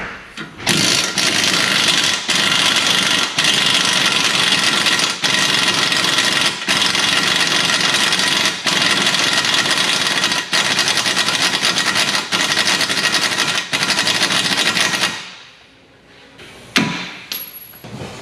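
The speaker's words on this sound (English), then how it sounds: "So usually when one bolt doesn't move, I'll just use a gun just to spin it." An impact gun spins a bolt during driveshaft and wheel bearing work on a Hyundai Kona EV, with a loud, continuous rattling whir held for about fifteen seconds close up, then stopping.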